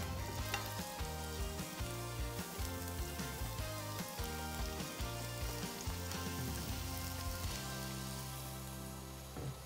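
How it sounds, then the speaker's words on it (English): Red onions frying in a small amount of oil in a pan give a steady close sizzle throughout, with a rain-like crackle and brief stirring scrapes. "we're gonna add a little bit of oil. Tiny bit. Go in with your red onions."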